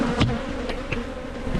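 Bees swarm in a wild hive built inside a chest of drawers, a dense, close buzzing drone with individual insects zipping past, no voices.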